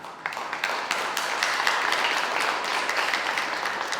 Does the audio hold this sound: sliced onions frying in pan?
no